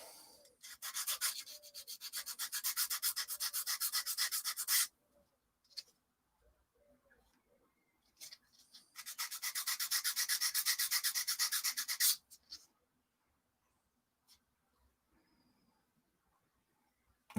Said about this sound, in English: so we'll give that a bit of a sand down.